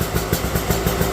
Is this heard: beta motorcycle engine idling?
yes